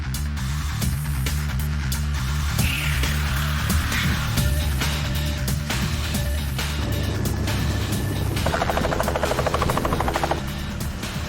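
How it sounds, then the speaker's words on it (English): A helicopter landing in six feet of fresh powder in the Canadian Rocky Mountains, a loud, continuous rotor and turbine roar with steady rhythmic chopping, close and unbroken throughout. "Landing this aircraft in 6 feet of fresh powder is treacherous"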